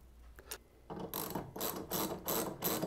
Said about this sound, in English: And then just tighten them down with those nut plates on there.